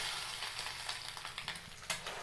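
Soft, steady sizzle of masala-coated eggs frying in oil in a pan, with small crackling pops scattered throughout, fairly quiet and close.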